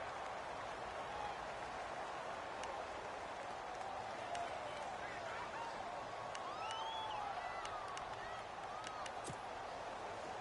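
A stadium crowd in a PS4 American football video game sends up a continuous, even roar of cheering as a big third down approaches, a broad wash of noise with faint calls and whistles mixed in.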